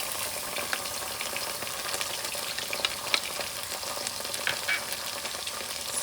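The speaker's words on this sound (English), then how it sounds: "Let's saute this nicely" Carrot, sweet corn, chilies and ginger garlic paste sauté in a pan with a steady broadband sizzle and occasional soft stirring scrapes, close and even, with no voices.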